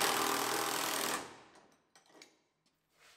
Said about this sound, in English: So we'll unbolt our clamp.